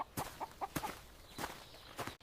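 Chickens on a farm give a handful of short, soft clucks in an uneven rhythm, with faint footstep-like scuffs between them, all quiet and close.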